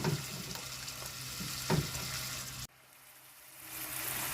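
Meat fries in a pan for a children's home-cooked dish, giving a steady, close sizzle with a few stirring knocks; it cuts off abruptly midway, then a quieter hiss gradually builds back up.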